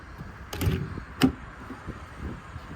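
An RV exterior compartment door with magnetic latches on a 2024 Phoenix 334FL motorhome shuts with a soft thud and then snaps closed with a sharp latch click about half a second later, moderately close and with no talk.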